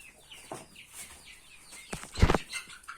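Hens cluck softly at evening lock-up of the poultry, a few scattered low calls building to a louder burst of clucking near the end, close by.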